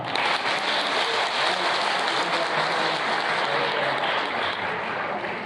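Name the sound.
congregation applause welcoming a pastor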